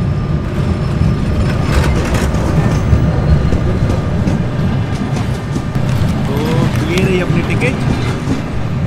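A long-distance second-class sleeper train rolls into a station platform in Ukraine, a loud rumbling, rattling approach with metallic squeals, heard up close.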